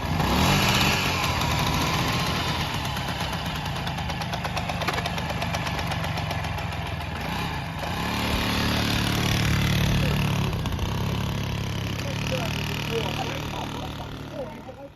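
A 1974 Piaggio Ciao moped, a 25 mph version, runs steadily on a ride with a buzzing small engine and wind noise, its tone shifting slightly midway as it carries on without pause.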